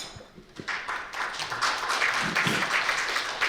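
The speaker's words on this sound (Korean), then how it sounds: "오늘 힘찬 박수로 맞이해 주시기 바랄게요" An audience at an economics lecture breaks into applause, the clapping building quickly into a full, steady wash of hands.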